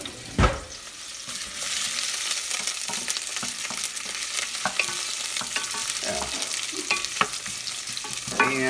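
Apple pieces fry in a pan for a pork chop jam, a constant sizzle broken by occasional spoon clinks and scraping stirs, close and moderately loud.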